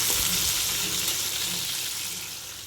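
Tomato masala paste mixed with yogurt and spices bubbling and sizzling steadily in a pan for chicken changezi, a continuous close hiss with no talk.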